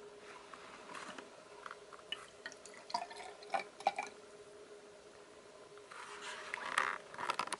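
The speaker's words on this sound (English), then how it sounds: "Josh is going to fill this test tube with warm water to about 1/3 full." Warm water is poured into a glass test tube to about a third full in a basement, giving faint, scattered trickles and drips with short splashy bursts over several quiet seconds.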